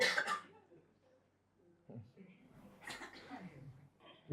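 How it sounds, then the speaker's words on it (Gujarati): A couple of short coughs or throat-clearing bursts from a stand-up comedy audience at the start, then quiet, followed by murmuring voices and a faint laugh. "બ્રેકમાં ઉધરસ ખાઓ, કેટલા સારા માણસો છો."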